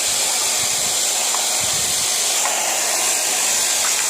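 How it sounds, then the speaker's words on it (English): A large hair-dryer blower drying freshly washed cars at a car wash gives off a loud, continuous rushing hiss of air that holds steady without a break from start to finish. "we are going to dry all our washing cars by hair dryer."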